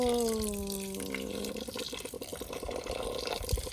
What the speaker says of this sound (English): gracious pouring of water